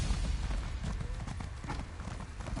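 Steady clip-clop of horse hooves while riding in a third-person video game, an even galloping rhythm held at moderate loudness throughout, with low rumbling underneath.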